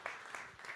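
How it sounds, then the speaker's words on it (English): Audience applause at a talk on adaptive reuse of sites of memory and trauma, a short, dense burst of clapping that stays fairly steady and moderately loud throughout. "First of all, round of applause."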